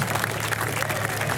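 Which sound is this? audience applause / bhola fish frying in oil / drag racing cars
audience applause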